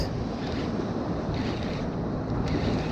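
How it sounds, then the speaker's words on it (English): Big ocean waves slosh and crash around a small fishing boat while a red drum is being reeled in, a loud, continuous roar of water blended with wind buffeting the microphone, with no voices. "Oh, big waves though."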